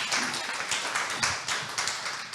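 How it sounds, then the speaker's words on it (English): Applause from a conference audience after a talk, a crowd of hands clapping steadily with pulsing bursts, moderately loud and fairly close, with no voices over it. "round of applause"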